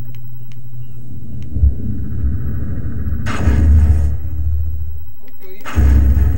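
Weapon fire in the video game Half-Life 2, a few heavy booming blasts with rumbling tails spaced several seconds apart, loud and close.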